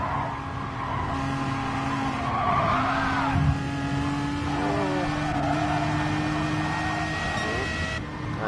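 Aston Martin race car in the Gran Turismo video game during a Le Mans 24 Hours race, engine droning steadily with shifting pitch and tyre squeal, other cars nearby, all without talk.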